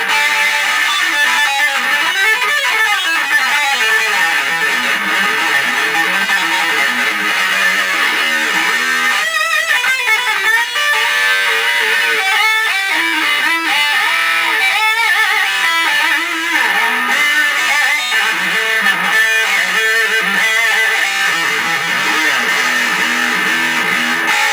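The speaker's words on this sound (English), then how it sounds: "let's take it up to shred-worthy distortion." Heavily distorted electric guitar with a Stetsbar tremolo bridge churns through fast, dense riffs and squealing bends, a thick saturated wall of sound played alone.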